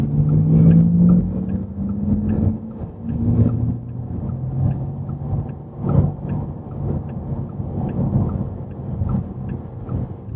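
Inside a Porsche Taycan electric car cruising on a freeway, the cabin fills with a steady low road rumble and faint tonal hum, with brief soft thumps along the way.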